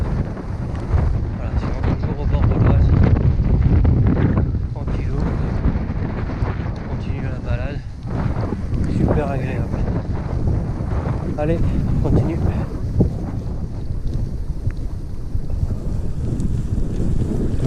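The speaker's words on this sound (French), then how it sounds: "le vent s'y coule un petit peu là" Strong wind buffets the microphone in continuous gusts, loud and rough, with a voice faintly audible underneath at times, on a gravel bike ride along towpaths by the Oise.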